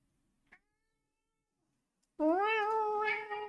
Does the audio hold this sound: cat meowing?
yes